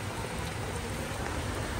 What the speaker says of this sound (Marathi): इकडे गुजरातमध्ये खूप पाऊस पडतो